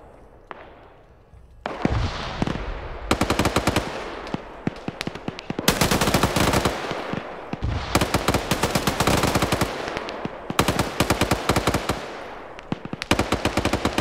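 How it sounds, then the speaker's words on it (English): Heavy automatic gunfire between players in a military shooter game, long rapid bursts of rattling shots broken by short gaps, loud and fairly close, with no speech. "they're still shooting at each other over there"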